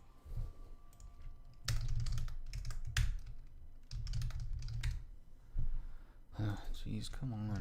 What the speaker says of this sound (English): See, like I'm typing as fast as I normally type, and it's not registering.